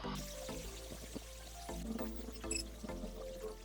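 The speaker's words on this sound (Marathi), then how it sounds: "आता आपण रावस धुवून घेऊयात." Water pours and splashes steadily over pieces of raavas (Indian salmon) fish being washed in a kitchen, with small clinks and drips breaking through the running flow.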